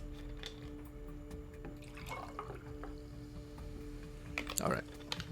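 Water being poured into a cup: a close, moderately loud splashing trickle that swells near the end, with steady background hum and scattered small clicks and drips.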